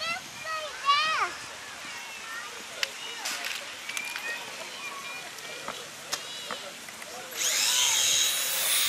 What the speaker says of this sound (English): Helicopter, go up there,